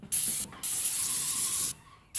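A paint spray gun spraying a roof hisses in loud, close bursts: a long spray, a short pause, another long spray, then a final burst starting.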